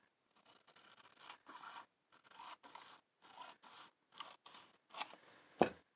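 Scissors trimming the edge of paper in a decorated journal: a series of close, crisp snipping cuts in short bursts with small gaps, ending in a sharper snip, no voices.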